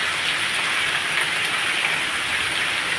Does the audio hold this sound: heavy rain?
yes